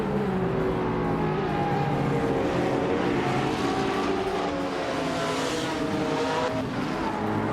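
A 2012 Pagani Huayra races in a video game, its engine a loud, steady, continuous roar with faint tire squeal, sustained without pause throughout.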